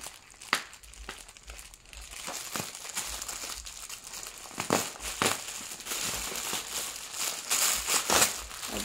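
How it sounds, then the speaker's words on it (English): A plastic package of pillow covers being unwrapped close by, with irregular crinkling and crackling bursts and sharper rustles throughout. "So I want to unwrap it with you."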